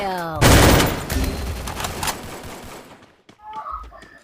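Rapid gunfire in a 4v4 shooter video game, a loud close burst of automatic shots that fades out, followed by a few quieter sounds and a brief voice.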